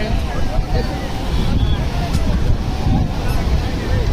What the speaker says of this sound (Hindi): हम आ गए हैं बीच पे